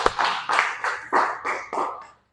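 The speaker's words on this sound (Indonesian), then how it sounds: "tepuk tangan lagi" A classroom group claps in appreciation for a student project presentation, giving about seven short rhythmic bursts of clapping, fairly close, that stop abruptly.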